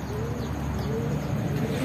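Pigeons coo softly and repeatedly in the low register while being trained for racing, with a steady background hiss and faint chirps from other birds nearby.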